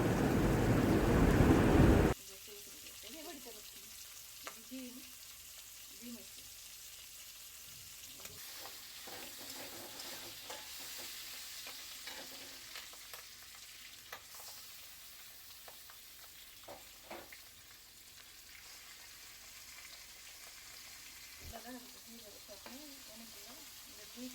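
Pointed gourd (potol) frying in a pan: a loud burst of sizzle at the start drops to a quieter, steady crackling fry with scattered pops and light clicks, over a long stretch with faint background sounds.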